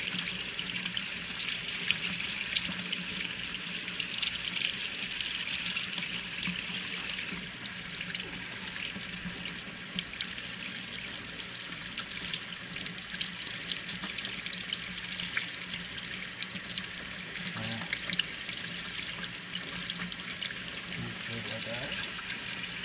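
Water flowing and splashing from a portable air-conditioner batch water heater, a steady hiss of running water heard close and continuous, with faint voices underneath.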